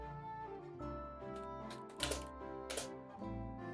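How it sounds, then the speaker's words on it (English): Computer keyboard typing with a few sharp clustered key clicks standing out over steady tonal background music, quiet overall. "you hear the keyboard?"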